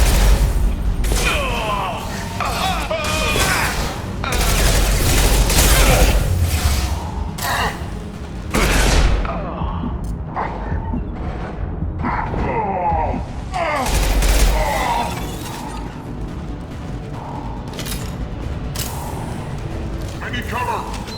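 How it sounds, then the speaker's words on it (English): Sustained firefights in Mass Effect 2 bring heavy volleys of rapid shots and booming impacts, loud and near, surging and easing over about twenty seconds while combat voices call out between bursts. "Open fire!"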